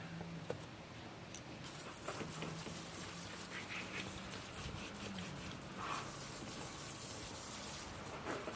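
Water runs steadily over freshly processed rabbits in an outdoor rinse, a continuous close splashing gush with faint intermittent taps and no talking.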